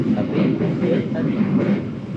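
The Malioboro Express, a long-distance passenger train, runs with a continuous, fairly loud rolling rumble and faint rhythmic pulsing, heard briefly and without a break, with voices mixed in.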